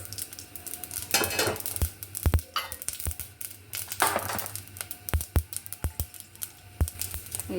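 Spices for a tadka crackle and sizzle as they drop into hot oil in a pan for avarebele saaru, with sharp sputtering pops and a few clinks of a utensil against the vessel, close and steady.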